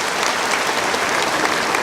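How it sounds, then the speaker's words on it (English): An audience at a talk on global warming gives a speaker a warm round of applause as he walks to the podium, dense, even clapping from many hands. "Please give him a very warm round of applause"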